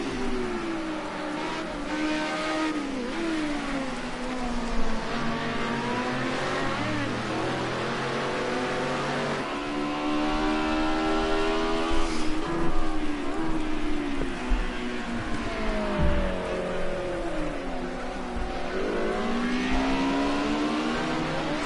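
Ford and Audi Group A touring race cars lap Imola, engines revving hard and rising and falling in pitch as they power through the curves, loud and continuous throughout.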